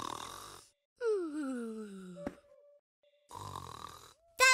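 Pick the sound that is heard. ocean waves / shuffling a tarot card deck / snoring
snoring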